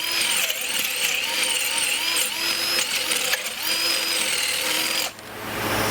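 Power drill with a bit boring out a corroded, rust-stuck bolt in a water pump housing, a loud close whine that wavers in pitch, then cuts off near the end.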